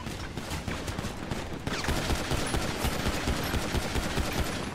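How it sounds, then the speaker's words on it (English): Rapid full-auto bursts from a Glock fitted with a switch during a shooter game firefight, a dense, loud crackle of shots running continuously with a sharper burst partway through. "That's just like a Glock with a switch."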